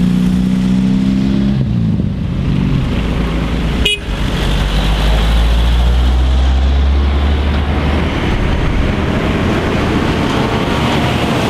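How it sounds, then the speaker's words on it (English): A container lorry on a road in the Paraguayan Chaco roars past loud and close, its heavy engine droning steadily, with a sustained horn blast near the start. "First container lorry I've seen up in this neck of the woods."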